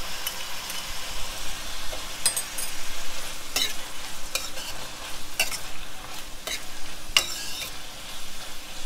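Thyme and garlic cloves fry in hot fat in a pot, giving a steady close sizzle broken by scraping stir strokes and occasional sharp spits, with no talking.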